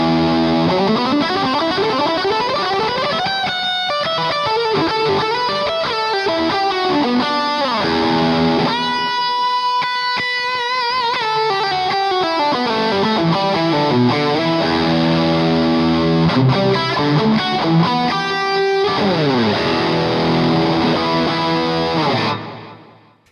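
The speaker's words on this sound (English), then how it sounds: "This one here is a fuzz tone. Now, I'm using a rat pedal because I tend to like a more articulated fuzz" Electric guitar played with a fuzz tone from a Rat pedal through a Boss Katana amp, loud and sustained, with thick distorted chords and articulated single notes filling the whole stretch before ending abruptly.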